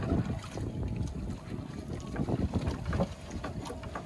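A small boat riding on the Banda Sea around Banda Neira, with a continuous rumble of engine and water wash mixed with wind buffeting the microphone.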